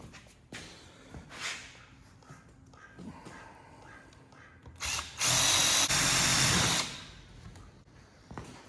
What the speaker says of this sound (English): I'm just using this drill bit here.